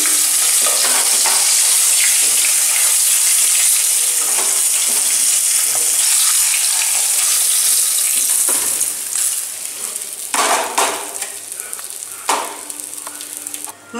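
Koi fish fry in hot oil with a loud, continuous close sizzle, then quieter crackling and scraping as pieces are lifted and stirred toward the end.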